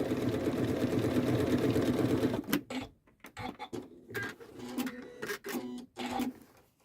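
A Janome sewing machine stitches in a steady, fast mechanical whir for about two and a half seconds, then stops and leaves only scattered light clicks and taps nearby.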